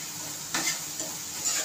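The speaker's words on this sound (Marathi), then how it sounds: "याला चांगलं असं परतून द्यायचं।" Spice masala for egg curry sautéed in a pan over a medium gas flame, a soft steady sizzle with a few brief scraping stirs of a spoon through the paste.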